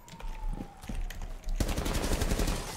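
Rapid automatic gunfire bursts from Rainbow Six Siege gameplay, a few scattered shots followed by a dense, fast volley, heard at moderate loudness.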